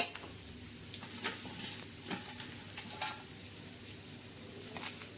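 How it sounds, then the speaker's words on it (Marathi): Steady crackling sizzle of red chillies frying on a hot griddle, with a few scraping stirs and no voices. "मिरच्या बी अशा चांगल्या भाजून घ्यायचा"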